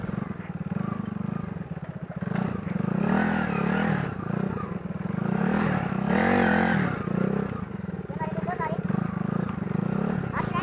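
A motorcycle engine labours and revs in uneven surges on a steep, rocky jungle road near Bagh, Azad Kashmir, with clattering and loud talking over it throughout.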